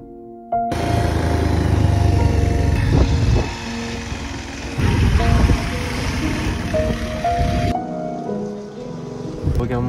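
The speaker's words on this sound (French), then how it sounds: "j'ai plutôt bien maîtrisé la moto" A motorcycle riding through Nepal, its engine droning steadily and close with wind rush, swelling and easing as the bike travels along the road.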